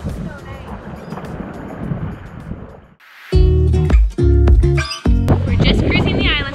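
Strong wind buffeting a microphone outdoors on a Rarotonga beach, a rough continuous rush, followed by loud speech-like bursts and gusty noise over the second half.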